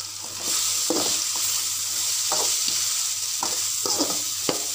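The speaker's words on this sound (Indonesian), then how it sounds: "kacang panjang kita goreng dengan kelapa parut dah siap lah" Long beans fry with grated coconut in a pan: a continuous bright sizzle punctuated by repeated spatula scrapes and clicks against the pan, close and fairly loud, with no talking.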